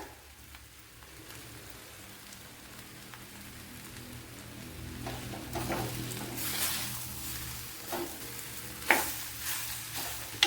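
Cooked tapioca (kappa) is mashed and stirred in a pan for a Kerala masala, a soft scraping and squelching that grows busier and louder, with a few sharp clinks near the end.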